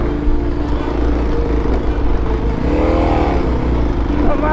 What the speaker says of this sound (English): Right here too, I'm giving it full throttle.